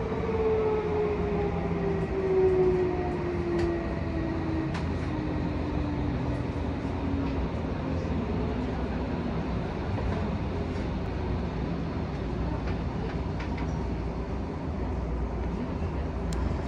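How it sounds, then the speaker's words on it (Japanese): Tokyo Metro Tozai Line 07 series train running as a rapid service, heard from inside the car: a continuous rolling rumble with a falling motor whine early on and occasional faint clicks over the rails. "この電車は快速です。"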